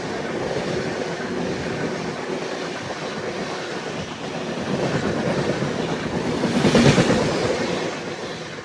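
A Kazipet–Secunderabad MEMU train, number 67764, runs on the rails near Ghanpur station, a steady loud rumble with rhythmic wheel clatter that builds and swells toward the end.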